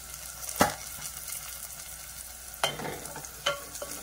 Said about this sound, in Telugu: ఉల్లిపాయ అనేది మగ్గింది కదా, ఇది కొద్దిగా మగ్గనిద్దాం